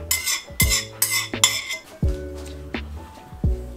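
Melted margarine being stirred into sugar in a bowl for vegan cookies, a utensil clinking and scraping against the bowl in quick repeated strokes, ringing metallic chinks up close with no talk.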